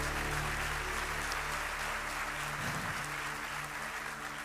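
Church congregation applauding during a live service, steady broadband clapping over a sustained organ or keyboard drone, moderately distant and continuous throughout.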